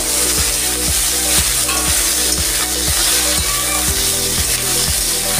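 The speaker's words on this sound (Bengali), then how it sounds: "এবার আমি দিচ্ছি উচ্ছে, একটু ভেজে নেব।" Bitter gourd fries in hot mustard oil with radhuni seeds, a loud, close, continuous sizzle broken by a regular series of sharp scraping strokes as a spatula stirs the pan, about two per second.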